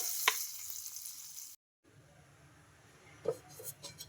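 Hot tempering poured into a chutney gives a bright, hissing sizzle that fades, then cuts briefly to quiet before softer crackles and a stir return.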